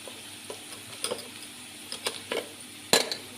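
Ground spices such as turmeric, coriander-cumin and red chilli hitting hot oil with green chillies for a Kathiyawadi-style khichdi tempering, giving a soft, low sizzle with scattered clinks and stirring taps and one sharper spatter near the end.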